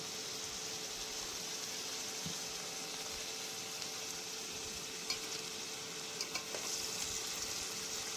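Spices and vegetables, including papaya, potato and carrot, fry on an induction cooktop, a steady close sizzle with occasional faint clicks of stirring and no talk.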